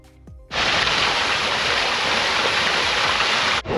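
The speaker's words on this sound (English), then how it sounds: "There's a waterfall!" Waterfall in the seaside town of Skegness, a steady, loud broadband rush of falling water that starts abruptly after a brief quiet moment and roars continuously close by, with no voices over it.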